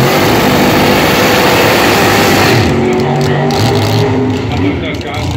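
A drag racing car engine roars loud and close at the Hockenheimring during a NitrOlympX run, a dense sustained blast that thins slightly after a few seconds as the throttle lifts, with a commentator talking over it.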